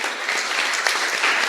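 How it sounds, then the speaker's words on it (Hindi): Steady, dense applause from a church congregation honoring Jesus Christ during a Hindi sermon, a full room clapping evenly throughout the short stretch with no voices standing out. "जोरदार तालियां प्रभु यीशु मसीह के लिए"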